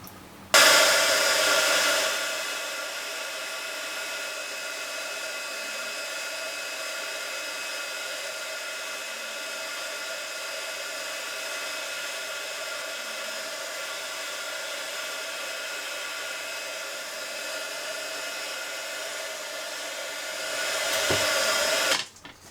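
An embossing heat tool blows over a die-cut piece in a steady, loud whirring hiss that runs for about twenty seconds, switched on sharply at the start and off at the end.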